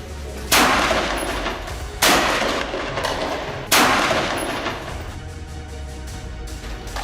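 Three sharp, loud bursts of gunfire from combat in Jabalia, each cracking out and then trailing into a long echoing decay, spaced a second or two apart with no talking.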